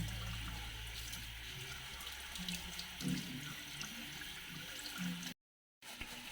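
A kitchen tap runs steadily as cooking ingredients are rinsed under it, giving a constant, close gush of water with slight splashing that cuts out briefly near the end.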